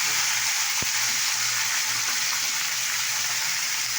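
Panch phoron spices fry in hot oil in a pan alongside yard-long beans, potato and tomato, giving a steady, loud, continuous sizzle with a single brief tap early on and no talking.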